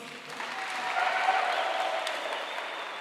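A round of audience applause at a multi-party voter registration event in South Africa, a crowd clapping steadily in a hall and swelling slightly in the middle before easing off.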